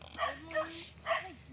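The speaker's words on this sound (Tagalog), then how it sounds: "May mga aso dito, guys." A few short dog barks and yips, with a whimper, come through at moderate distance in an outdoor setting, spaced irregularly over a low background hum.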